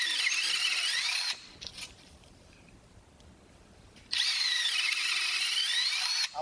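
An electric drill with a 1/2 inch bit bores a mortise in wood, two loud sustained whining runs with a quiet pause between them and no speech.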